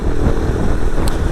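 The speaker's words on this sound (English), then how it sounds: "Exhaust from the factory sounds pretty damn good." A Lifan KP Mini 150 motorcycle on its stock factory exhaust, a loud, close, steady engine rumble with a thick low-end throb and no talking.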